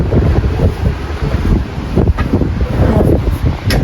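Strong gusty wind on Mount Pulag roars and buffets the microphone continuously, a heavy rumbling rush with no voices.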